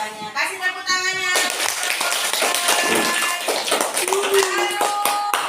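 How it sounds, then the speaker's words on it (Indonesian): Students in a classroom break into applause, a dense patter of clapping hands that keeps going steadily, with voices chattering and calling out over it. "Kasih tepuk tangannya"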